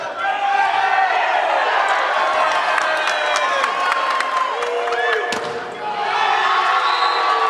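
Spectators in a school gymnasium applaud volleyball players after a hard-fought rally, the steady crowd noise and clapping rising around sneaker squeaks and a commentator speaking over the action.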